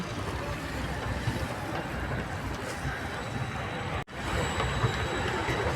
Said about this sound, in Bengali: সুইজারল্যান্ডের ট্রাম ট্রাম চলতেছে ঘন ঘন ট্রাম